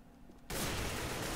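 Gunfire from a shooter video game at a MSI CUP esports match erupts suddenly after a quiet moment, a dense, loud burst of shooting that fills the rest of the short moment.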